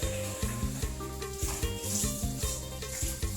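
A knife chops scallions and garlic on a cutting board for a Thai clear soup, striking in a steady, fast rhythm of evenly spaced taps over a continuous tonal background.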